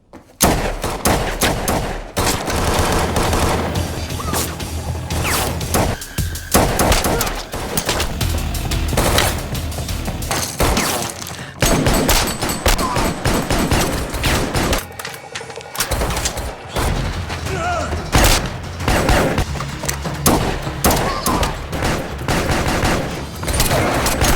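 Gunfire from a film action scene pours out in dense, loud volleys of rapid shots and bursts, with only a brief lull midway.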